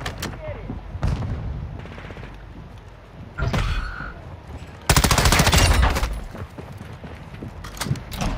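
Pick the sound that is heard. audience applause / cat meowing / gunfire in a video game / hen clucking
gunfire in a video game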